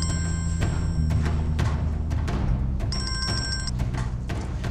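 A telephone rings in a tense Turkish TV drama scene, with a short electronic ring burst standing out over a steady bed of background music and room noise.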